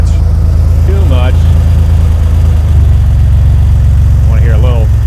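An AWD turbo S10 pickup idles at a low steady rumble, close and loud, with short bursts of talk over it.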